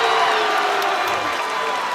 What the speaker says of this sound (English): You can hear the Vienna crowds cheering as the Eagles have a 17-point lead